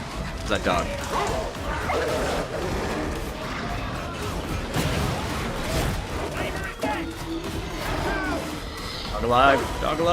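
Barking from an enemy hound in the video game Warhammer 40,000: Darktide, repeated yips and barks amid combat crashes, heard under a player talking over the action.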